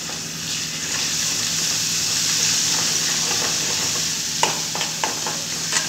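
Broad beans frying in hot oil in a home kitchen, giving a steady close sizzle and hiss with a few light stirring clicks near the end.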